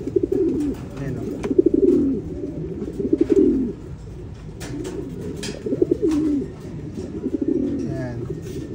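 Pigeons coo repeatedly at a nest of newly hatched squabs, soft throaty rolling calls recurring every second or so, close and clear, with small clicks and rustles between them.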